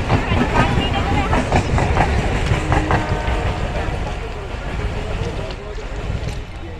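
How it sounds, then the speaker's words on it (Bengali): A suburban train pulls out of Barasat station with a loud, continuous rumble and wheel clatter that eases slightly as it moves off, with voices in the background. "তো দেখুন ট্রেনটা বেরিয়ে গেল"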